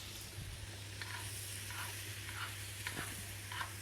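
Meat searing in herb butter in a pan gives a steady, soft sizzle throughout, with a few faint clicks and shifts on top.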